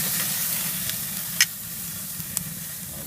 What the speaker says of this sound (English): So let's do the searing portion of the cook.